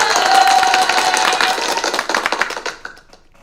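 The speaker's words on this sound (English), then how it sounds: "did you hear the round of applause?" Round-of-applause sound effect: a dense burst of clapping from a crowd, loud at first, then thinning into scattered claps and fading out.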